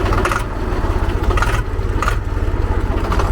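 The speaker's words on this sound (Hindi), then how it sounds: "ट्रैक्टर है भाई, और आप इसकी आवाज़ सुनो।" A 1999 Swaraj 735 tractor with a Kirloskar engine runs steadily, giving a loud, close, low chugging rhythm with faint metallic rattles on top.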